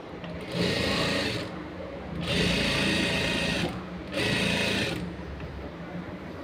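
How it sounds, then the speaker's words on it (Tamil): A sewing machine stitches the fall onto a saree in three loud, steady whirring runs with short pauses between them. "இந்த ஓரத்தையும் அப்படியே ஸ்டிச் பண்ணிக்கிட்டாங்க"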